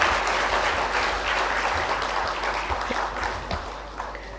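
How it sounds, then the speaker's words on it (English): An audience applauds children at the opening ceremony of an international sustainability education conference, steady dense clapping throughout, fairly close and loud, with no talk over it. "let's have a round of applause for the children"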